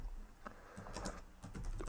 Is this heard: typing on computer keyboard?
yes